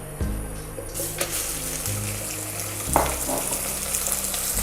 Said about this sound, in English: When the pan is hot, and you also know the pan is hot when the oil is actually smoking, add the mincemeat.